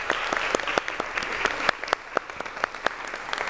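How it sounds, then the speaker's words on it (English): Audience applause during an instant sculpture workshop session, a moderate crowd clapping steadily with a few sharper, louder claps standing out, no talk over it. "Beautiful, round of applause."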